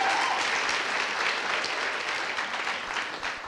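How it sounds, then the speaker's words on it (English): A church congregation applauds during a Sunday family service, a dense, even wash of clapping from many hands that holds steady throughout without voices on top. "can we give him a round of applause?"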